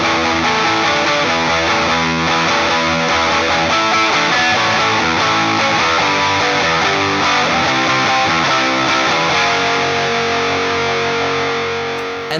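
Electric guitar played through a Supercool THNEED pedal at high gain, heavily clipped into a fuzz-like distortion; dense, loud, sustained chords and riffs ring continuously without any talk.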